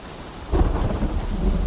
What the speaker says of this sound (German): jetzt regnet's